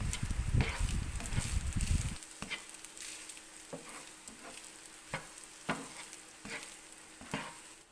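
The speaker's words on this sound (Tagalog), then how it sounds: "Combine lang natin ang mga ingredients na mabuti." Egg fried rice ingredients stir-fried in a hot pan, opening with two seconds of loud sizzling frying, then quieter sizzle broken by regular scraping and tossing strokes of a utensil against the pan.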